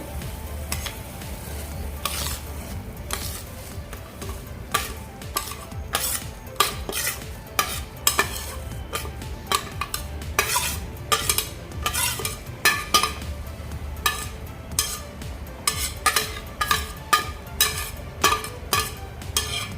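Broken wheat for lapshi rava upma is stirred as it fries in a pan, with a busy run of scrapes and metallic clinks of the spoon over a steady low sizzle, close and continuous, with no talk.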